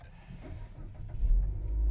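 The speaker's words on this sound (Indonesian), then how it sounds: "begitu saya nyalakan, injek rem, pencet sekali start stop engine-nya" A Mitsubishi Xforce is started with its push-button start-stop, the engine catching and settling into a low rumble that grows louder and steadier over the final second.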